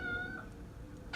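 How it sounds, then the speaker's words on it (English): A house cat meows in the background, one short plaintive call at the start followed by a fainter one near the end, set against a steady low rumble that sounds like a car interior. "That's the cat meowing in the background."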